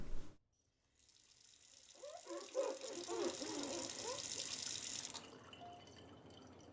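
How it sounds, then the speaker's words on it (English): Shower water running in Fallout 4, a steady broadband rush that starts after a short silence, holds for several seconds under faint background sounds, then cuts off. "Shower time."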